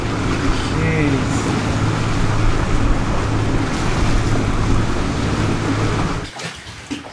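A sailboat moving fast through waves, with a loud, steady rush of water and wind noise that drops away abruptly near the end.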